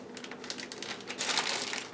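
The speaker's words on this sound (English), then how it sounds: "I'm going to zip this up really good" Crackly plastic rasping runs for about two seconds, steady and close, growing slightly louder toward the end, as a plastic zipper bag holding marinade is pressed shut.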